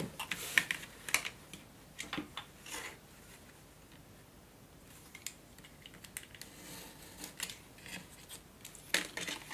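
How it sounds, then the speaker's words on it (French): Scissors snip through paper for a mini album cover in a series of quiet, crisp cuts, bunched at the start and end with a softer pause in between, close and alone. "Maintenant, on va venir découper."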